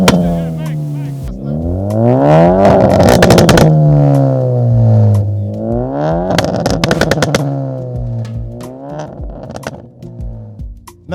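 Car engine revving hard close by, rising and falling in repeated throttle blips with crackling pops, loud over a noisy roadside crowd at a summer car meet at Irvine Beach, Scotland.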